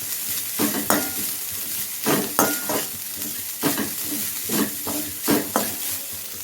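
Grated coconut dry-roasting in a pan gives a steady sizzle, broken by repeated scraping strokes of a spatula stirring at an even rhythm, close up with no voices.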